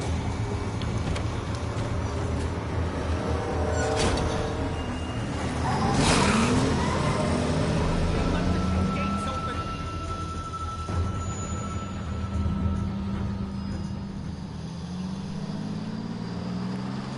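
An idling car engine in a video game rumbles steadily and low throughout, holding a constant drone with faint tonal hums and occasional soft background noises.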